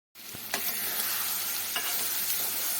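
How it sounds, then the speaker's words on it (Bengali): Ground spice paste sizzles steadily in hot mustard oil, a loud continuous hiss that starts abruptly and holds, with a couple of sharp utensil clinks against the pan. "তেলটা ভালো করেই গরম হয়ে গেছে এবার আমি বাটাগুলো দিয়ে দেবো"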